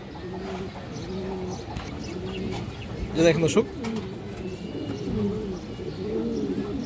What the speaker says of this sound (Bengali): একবার মনের মতো একটা সিলভার পাকা খাকি মাদি কবুতর